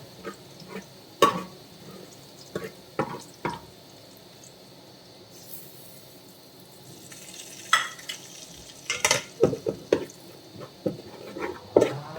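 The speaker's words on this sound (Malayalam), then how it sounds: "നമുക്ക് ആ പൊടികളെടുത്ത് ഒന്ന് മൂപ്പിച്ചെടുക്കാം. ഇത് എണ്ണയിലേക്ക് ഇട്ട് ഒന്ന് ചൂടാക്കി എടുക്കാം." Coriander and Kashmiri chili powder are fried in hot oil for a fish curry, producing a quiet background sizzle broken by scattered stirring knocks and scrapes, heard up close with no talk.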